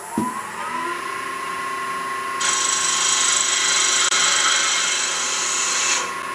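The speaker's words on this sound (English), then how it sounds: "So I'm going to switch over to my spindle gouge." A spindle gouge cuts a wooden whistle blank spinning on a lathe: a steady motor whine is joined by a loud, continuous scraping hiss of the tool on the wood, which stops near the end.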